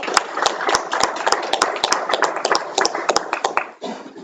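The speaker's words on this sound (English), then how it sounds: "let's still give him a round of applause, too." An audience at a school board meeting claps in a short burst, with sharp, uneven hand claps over a steady, lively patter.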